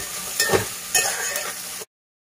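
Potatoes and carrots frying in a pan for vegetable vermicelli pulao give a steady close sizzle with a few stirring scrapes, then cut off abruptly to silence.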